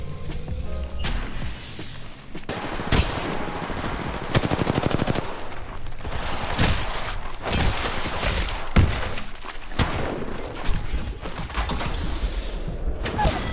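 Rapid bursts of automatic gunfire from the video game Apex Legends Mobile crackle in dense, repeated volleys with brief gaps between them, loud and close, along with clattering game effects.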